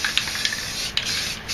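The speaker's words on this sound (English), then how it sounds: "Now I'm just going to spray black around all this," Black spray paint hisses from an aerosol can in short bursts and longer sustained sprays, close and fairly loud, with brief pauses as the can is moved.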